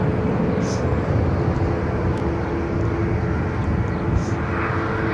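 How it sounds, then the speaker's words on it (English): A Royal Air Maroc Boeing 737 MAX 8 departing Barcelona for Casablanca gives off a steady, loud, broadband jet roar that holds evenly through the whole stretch. "we've got Royal Air Maroc shortly be departing to Casablanca, and the aircraft is 737 MAX 8."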